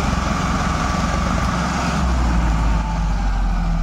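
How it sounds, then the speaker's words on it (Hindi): Two Ford 3600 tractors strain to haul a loaded sugarcane trolley out of a wet, muddy field, their engines giving a steady, loud, continuous low diesel drone. "ये देख सकते हैं आप दोनों ट्रैक्टर फिर से जोर लगा रहे हैं"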